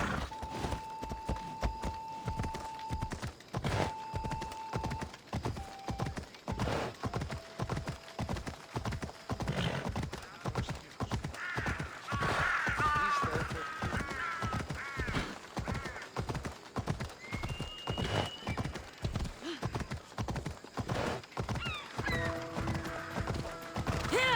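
A horse ridden in Assassin's Creed Odyssey gallops with steady, rhythmic hoofbeats throughout and lets out a loud neigh early on, with game music tones layered over the running hooves.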